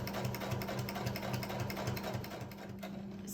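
Sewing machine running back stitches along a quilt, a fast even mechanical chatter with a steady motor hum, close and continuous, slowing slightly near the end.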